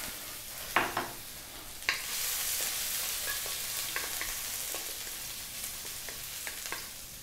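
Sliced ginger sizzles in cooking oil in a hot wok, a steady close hiss with occasional knocks and scrapes of a utensil stirring, and no talking.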